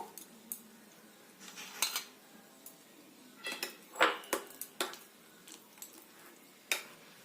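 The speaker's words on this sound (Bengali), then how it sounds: "এবার পুরো পেস্টটা এই কাঁঠালের বীজের মধ্যে দিয়ে দেব দিয়ে ভালো করে মেখে নেবো" Spice paste being mixed into jackfruit seeds in a bowl, heard as scattered clinks and scrapes of a spoon against the bowl with soft squishing in between, close and intermittent.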